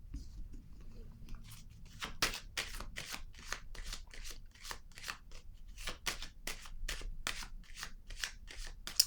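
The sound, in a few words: tarot card being drawn and handled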